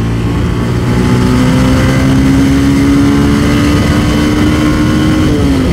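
A 2013 Honda Verza motorcycle engine revs steadily under acceleration, a loud, continuous drone with the pitch rising slowly through a gear, recorded close to the bike.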